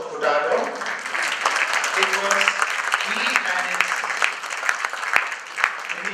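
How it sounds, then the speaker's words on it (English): Audience applause fills a reunion speech gathering, a dense steady wash of clapping from a crowd, with a voice speaking over it. "all of you need to clap and give a huge applause"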